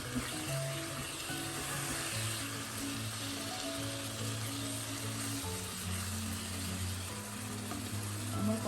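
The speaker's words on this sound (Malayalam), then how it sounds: "അടച്ചു വെച്ച് നമുക്കൊന്ന് വഴറ്റാം" Chicken biriyani masala sizzles gently in a covered pan, a soft steady frying hiss that carries on without break and without talk.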